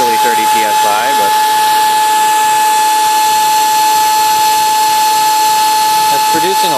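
A micro Tesla turbine spins on compressed air from a small compressor at about 30 PSI, making a steady high whine with constant hiss throughout, loud and close, while someone talks over it.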